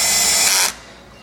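A power drill drives screws into the wood panel of a luggage unit during assembly, a loud steady motor whir that holds for about 0.7 seconds, then cuts out abruptly.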